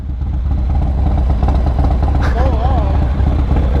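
A Yamaha MT-09 SP motorcycle engine runs loud and close, a rough continuous idle with a brief rise in revs, while a person speaks over it.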